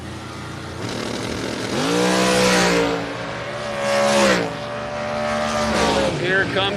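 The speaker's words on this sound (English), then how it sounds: "Comes a dragster" A dragster at a drag strip event roars past, its engine note sweeping up and down in loud revving waves, with an announcer talking over the run.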